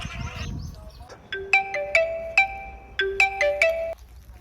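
A phone ringtone playing during a call, a bright electronic melody of repeated beeping tones in two quick bursts, loud and close, following a brief moment of voice at the start.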